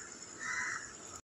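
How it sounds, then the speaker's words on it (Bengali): A crow caws at dawn, one drawn-out call at moderate distance that swells in the middle and then stops, with no other birds heard. "এখন কাক ডাকছে।"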